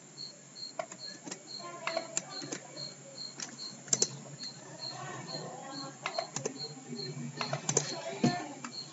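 Keys tap on a computer keyboard in a few separate clicks and short clusters, fairly quiet over a steady high-pitched background tone.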